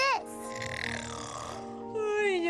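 A voice imitates snoring at bedtime, a drawn-out nasal, gurgling rasp with rising and falling pitch, followed by a whining breathy glide, loud and close with no other sounds.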